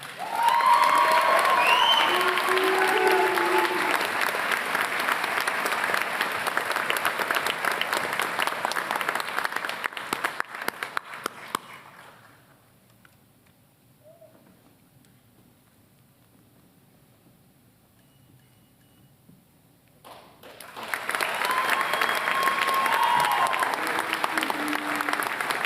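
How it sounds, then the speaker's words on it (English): A crowd at a police academy graduation applauds award winners with loud, sustained clapping that stops into near silence midway, then a second loud round of applause starts up near the end. "How about one more round of applause for all our award winners?"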